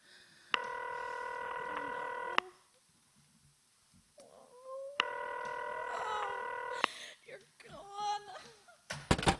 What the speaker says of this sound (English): You may dial that number direct.